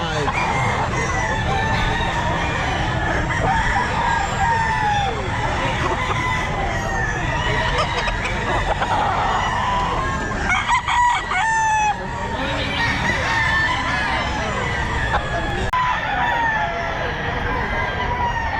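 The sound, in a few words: stag gamecocks crowing at Grotto pet market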